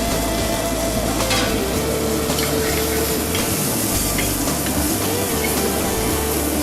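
Mushrooms and onions sizzling in a very hot pan in a restaurant kitchen, a loud, dense, unbroken crackle with occasional louder spits, close up and without talk.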